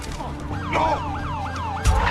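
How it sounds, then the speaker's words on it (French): A fire truck's wailing siren sweeps up and down in a steady, repeating cycle in a French action film, loud and close over traffic rumble, ending with a heavy thud. "C'est quoi ce que j'entends? J'ai pris un camion de pompiers!"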